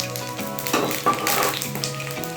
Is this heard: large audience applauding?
no